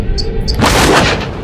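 A single heavy gunshot blast in the Until Dawn horror game lands about halfway through, loud and broadband with a short decaying tail, following a faint low rumble.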